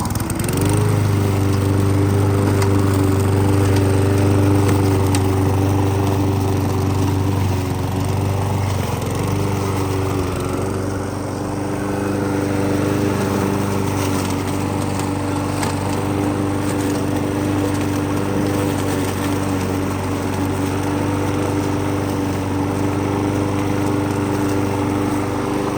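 A small Victa 4-stroke lawn mower engine idles steadily and loud up close, its even droning hum holding without a break, with a slight dip in pitch partway through before settling back.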